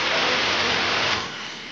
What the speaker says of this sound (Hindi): और अभी मैं आपको कहीं पे खड़े होकर दिखाऊंगा बारिश कितनी तेज हो रही है।